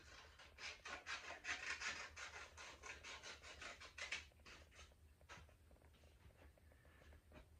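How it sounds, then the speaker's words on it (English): Sandpaper rubs over the outside of a turned translucent wooden bowl in quick rhythmic back-and-forth strokes, close and fairly soft, with a few scattered lighter swipes toward the end. "now I'm going to take my sandpaper and we'll get this guy cleaned up on the outside here"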